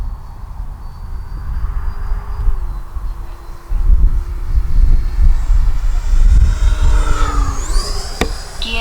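An FMS Futura V3 80mm EDF RC jet flies under power, its ducted-fan whine rising and sweeping in pitch as it turns toward the listener over steady outdoor wind noise, growing louder near the end.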